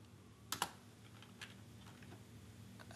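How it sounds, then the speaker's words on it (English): Keys on a computer keyboard tapped to enter a command in a command prompt, a couple of sharp close clicks near the start followed by sparse lighter taps over a quiet hum. "And I will type a comment"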